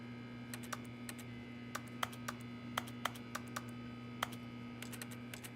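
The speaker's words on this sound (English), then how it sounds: "Or is my character just like carrying around a fucking keyboard? Everything I try to interact with." Keyboard clicks in The Stanley Parable as the player interacts with objects: scattered, irregular key taps, sometimes in quick pairs, quiet and close, over a steady low electrical hum with no talk.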